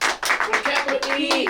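Quick, rhythmic hand claps in a rapid series, close and fairly light, with a voice sounding partly over them.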